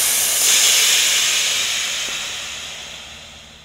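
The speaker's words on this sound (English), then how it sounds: "To release it, you open the valve." Compressed air hissing out of an opened valve on a chassis bladder, a loud close rush that starts sharply and slowly fades over a few seconds.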